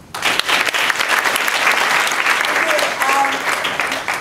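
Sustained applause from a seminar crowd, loud and steady throughout, with dense clapping that fades slightly at the end.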